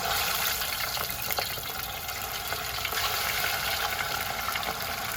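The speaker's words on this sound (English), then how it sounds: "I'm just gonna give this fish a quick fry" Sea bass fries in oil on a charcoal stove with a loud, dense, steady sizzle and crackle that holds close and even throughout, with no voices.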